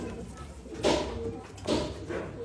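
Pigeons offered at a pigeon sale in Bangalore give two soft, low coos about a second apart over a quiet background.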